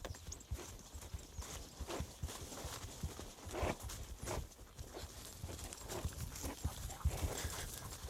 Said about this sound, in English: Here we're gonna go into the signature running walk off the Tennessee walking horse.